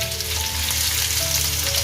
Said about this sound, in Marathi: ते तेल टाकून आपण सर्वात पहिले इकडे लसणाची फोडणी द्यायला घेतलंय त्याच्यानंतर कांदा सुद्धा आपण दोन कांदे घेतलेले ते घालून घेतले